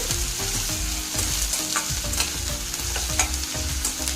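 Green chillies and onions sizzle steadily in a pan as they fry for a mushroom masala curry, with close stirring and scraping clatter throughout and no talk.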